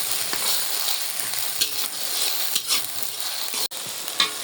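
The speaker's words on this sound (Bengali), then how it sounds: "মরিচ টরিচ সব কিছু দিয়ে কষে নিতেছি" Chili spice paste with gram flour sizzles as it is sautéed in a pan, with a steady fry and periodic scraping stirs close by, and no talking.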